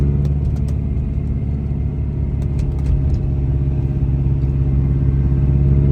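Lotus Esprit V8 heard from inside the cabin while driving on a dark road, a steady, loud, low engine rumble with faint ticks and rattles over it, no voices.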